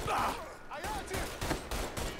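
Pistol gunfire in the video game Mafia III, a few sharp shots spread across a couple of seconds amid a busy, noisy game mix with faint voices underneath.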